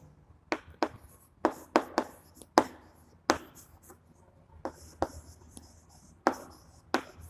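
A handwritten chemistry note on a less stable complex is put down as a series of sharp, separated taps and strokes, close by, with quiet gaps and no speech.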